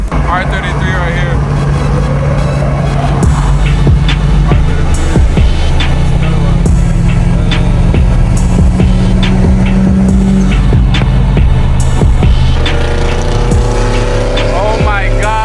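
A Nissan Skyline R33 at a car meet roars loudly and continuously up close, its engine note rising and holding under crowd chatter and voices.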